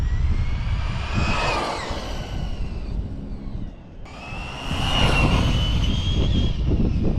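Traxxas Rustler 2WD RC car driving at partial throttle, its electric motor whining loudly, rising as it accelerates past close by, dipping briefly and then surging again.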